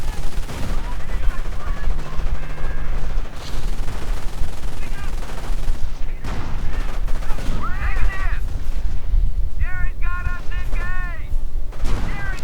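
MG42 machine gun fire in the Company of Heroes game, loud bursts of rapid automatic fire mixed with other battle noise and scattered explosions, with someone talking over it.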